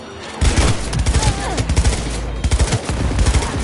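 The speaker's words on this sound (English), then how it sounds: "Heard shots." Dense bursts of automatic gunfire in Cyberpunk 2077, loud and close, with rapid volleys and short gaps between them running throughout.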